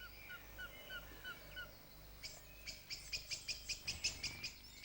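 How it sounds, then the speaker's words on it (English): Noisy young birds, fledgling blue tits or spotted flycatchers, beg to be fed: a few thin, faint chirps at first, then a rapid series of loud, sharp repeated calls close by. "Noisy young birds clamoring to be fed are an obvious target."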